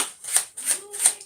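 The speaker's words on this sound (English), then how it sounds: "I completely forgot how to shuffle cards" Playing cards shuffled by hand in a short 1.3-second burst of riffling and flicking, several quick papery ripples in a row, close and moderately loud with no talking.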